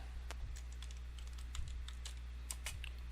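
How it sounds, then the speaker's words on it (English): Quiet, irregular clicks of a computer keyboard as a title is typed in, the keystrokes coming in short bursts with small pauses, close and alone with no talking. "now here we would type in whatever we wanted to type in under where it's name"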